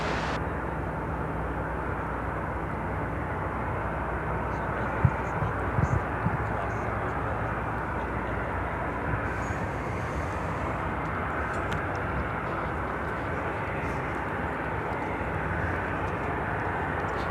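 Airplanes at Chicago O'Hare airport, a continuous broad jet engine roar holding steady throughout with a few small clicks, and voices faintly present.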